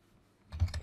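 Brief burst of typing on a computer keyboard, a few quick close key clicks after a near-silent start.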